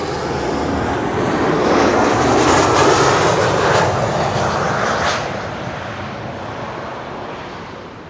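An airliner arriving on the Kaagbaan runway at Schiphol airport, a loud jet roar that swells, peaks mid-clip and slowly fades as the aircraft passes.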